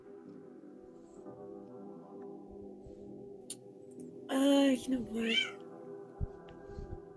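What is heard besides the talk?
cat meowing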